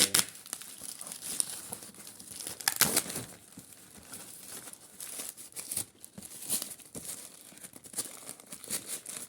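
Large Temu parcels sealed with tape are unwrapped close up, with continuous crinkling and crumpling of plastic and sharp tearing bursts over about nine seconds, with no talk.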